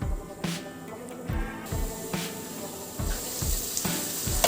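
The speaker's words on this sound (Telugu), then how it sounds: "అండ్ ఉల్లిపాయ ముద్ద వేగుతున్నప్పుడు ఈ విధంగా మూత పెట్టుకోండి." Onion paste and green chilies fry in a pan for fish curry with a steady, close sizzle, broken by a regular rhythm of scraping stirs, and no one talking.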